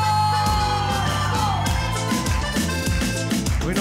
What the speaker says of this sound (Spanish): Y quiero escuchar el grito de Rojo.